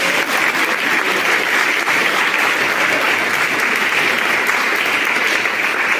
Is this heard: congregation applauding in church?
yes